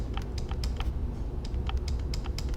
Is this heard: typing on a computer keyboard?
yes